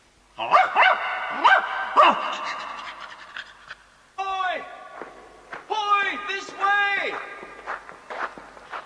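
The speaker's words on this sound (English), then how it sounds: "Timmy suddenly stopped in his tracking, raised his head, listened, and barked loudly." A dog barks several times in short bursts with panting and yelps, close and fairly loud, within a dramatized night search scene.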